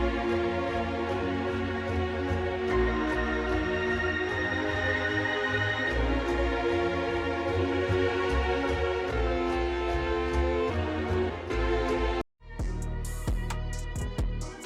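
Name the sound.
dark orchestral sample with sustained high strings from Arcade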